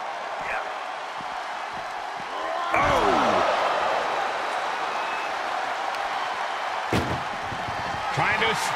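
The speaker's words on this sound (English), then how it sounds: "Just surviving the shutting door and escaping the ambulance." An ambulance door slams shut during a WWE 2K24 ambulance match between Bad Bunny and John Cena. Two or three sharp, loud bangs stand out over a steady arena crowd roar, with commentary voices in the background.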